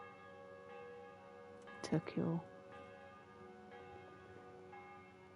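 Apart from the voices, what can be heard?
church bell ringing in video game Kingdom Come: Deliverance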